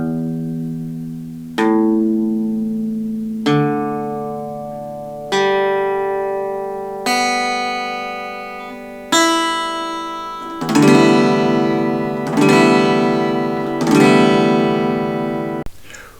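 An in-tune guitar rings out string by string with evenly spaced plucks, each note decaying slowly, then a few fuller strummed chords ring clearly to close, all played alone.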